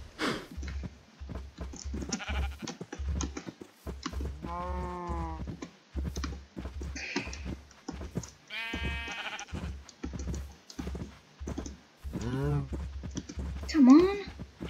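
Cows in the Minecraft video game give two drawn-out, wavering calls amid steady keyboard typing and a player's ongoing talk.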